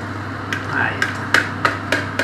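Eggs for a frittata are beaten by hand in a bowl, giving a string of light, irregular clicks and taps over a steady low background hum, close by.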